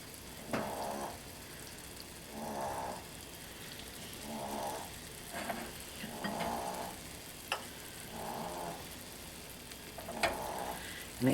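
Frittata egg mixture cooking in a pan gives a faint, steady sizzle, with soft recurring bursts of hiss and a few light clicks throughout.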